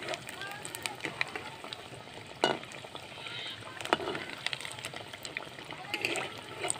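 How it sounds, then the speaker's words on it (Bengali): Suji ros pithe frying in oil over a low flame, four at a time, with a steady soft sizzle and occasional sharper crackles and pops, while a person talks throughout. "চারটে চারটে করে ভাজছি। এই সময় অল্প জ্বালানিতে ভাজতে হবে"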